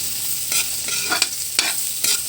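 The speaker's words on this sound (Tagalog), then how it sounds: "Igisa na natin ang garlic." Garlic sautéing in a pan, a dry crackling sizzle with a few short scrapes of a spoon stirring at a steady pace, close and alone.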